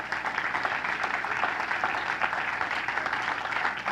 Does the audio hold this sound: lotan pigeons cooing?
no